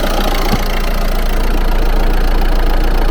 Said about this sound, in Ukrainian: Зато мотор класно робить.